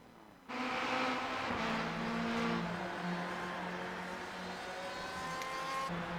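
A Ford GT race car in a Le Mans GTE racing video game, its engine droning steadily at a sustained pitch as it heads into pit lane, then easing slightly, loud and close with no talk.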